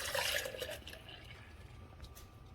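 A mixture of milk, cream, sugar and vanilla is poured into a KUMIO 1.2-quart compressor ice cream maker, a soft liquid splashing and trickling that is strongest at first, then fades to a quiet, steady pour.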